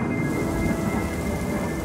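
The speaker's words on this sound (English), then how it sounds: "Gosh darn it, it's raining." Cartoon thunderstorm effect: a steady, loud rumble of thunder with a wash of rain running beneath it, continuous and close for the whole stretch.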